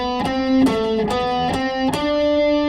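Electric guitar plays a melodic sequential lick in C, a run of clear picked notes in quick succession with light distortion, loud and alone without any talking.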